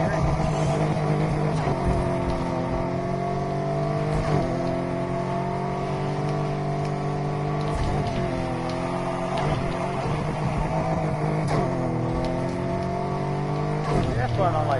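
A car drives continuously in the racing game Need for Speed Heat. The engine holds a steady drone and rises and falls in pitch through repeated gear shifts, with a speaker talking over it.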